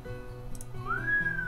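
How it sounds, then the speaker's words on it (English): A short whistle in the Asagao Academy video game, a single rising then gently falling tone lasting under a second, heard over low background music. "I whistled"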